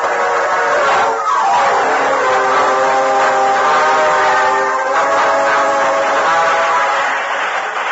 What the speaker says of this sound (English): the engine cab of the speeding train